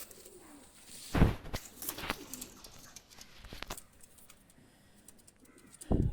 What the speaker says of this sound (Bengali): কবুতারটা ছেড়ে দেখাচ্ছি আমি